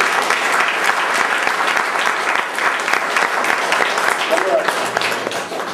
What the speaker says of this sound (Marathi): आपण सगळ्यांनी उभा राहायचं आहे, सगळ्यांनी उभा राहायचं आहे आणि मोठ्याने टाळ्या वाजवायच्या